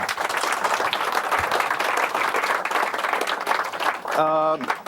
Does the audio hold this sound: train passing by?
no